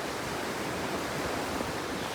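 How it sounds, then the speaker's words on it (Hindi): River flowing in heavy rain near a bridge, a dense, steady roar of rushing water and rainfall with no pauses, loud and enveloping. "तुम देखो नदी का बहाव"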